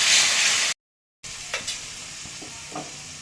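Spiced masala frying in oil and ghee in a pan for a Marwari-style soybean curry, a steady loud sizzle with a short gap of silence, then a softer sizzle with a few scrapes of stirring.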